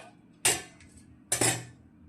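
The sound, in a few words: serving rice onto a plate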